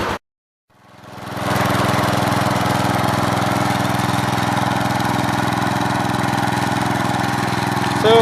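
An old Gravely 88 walk-behind tractor with a 12G engine runs while mowing a front yard. After a short silence its motor rises to a steady, loud, close drone that holds level with no talk over it.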